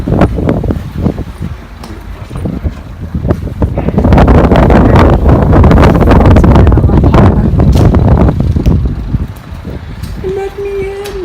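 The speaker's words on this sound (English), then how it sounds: "It's very windy, so I might not be able to hear" Strong gusts buffet the microphone on a volcano hike, a loud rumbling roar that swells and eases in waves. A person talks briefly over the wind near the end.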